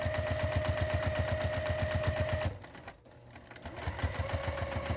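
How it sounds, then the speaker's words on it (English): A sewing machine stitches a tote bag seam with a fast, steady mechanical rattle, stops briefly midway, then starts up again, loud and close with no talking. "we're going to just finish sewing along this line back to where we started"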